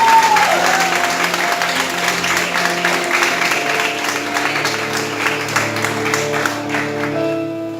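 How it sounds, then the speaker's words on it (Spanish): Sustained applause from a church congregation, steady clapping throughout, with a held musical tone underneath. "Dale un aplauso al Señor."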